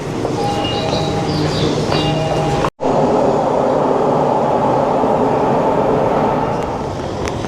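Subway metro train in Japan, a steady loud rumbling ride with constant rolling and rail noise throughout, interrupted by one brief sharp cut before the noise resumes unchanged.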